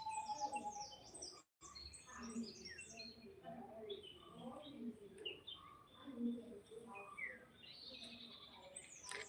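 Scattered bird calls and chirps come from a distance, several birds overlapping faintly high in the treetops, with a voice talking quietly underneath.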